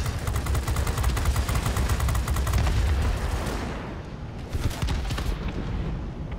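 F7F heavy fighter's cannons firing at bombers in a flight combat game, loud continuous rapid cannon bursts over roaring engine noise, easing briefly before another burst.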